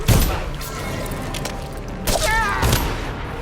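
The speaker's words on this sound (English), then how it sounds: "I heard a gunshot." Gunfire rings out in the video game Dishonored as several heavy booming shots over a noisy game soundscape, with a brief voice-like tone in between.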